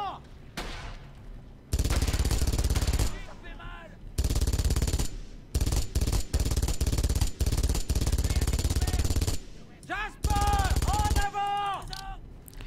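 Gunfire in Brothers in Arms: Hell's Highway during Operation Market Garden: long, loud sustained machine-gun bursts separated by short pauses, with a voice shouting between and over them.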